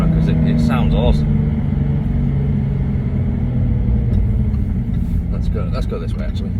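A car's engine rumbles steadily and loud from close inside as it drives along a rural road, a continuous low drone throughout with brief faint sounds on top.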